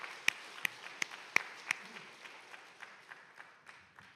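A church congregation at a Sunday worship service claps in a thin, scattered way, with a few louder individual claps early on that thin out into sparse, quieter claps.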